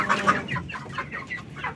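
Free-range chickens on a farm clucking in a loose run of short calls, moderately close, with no voices.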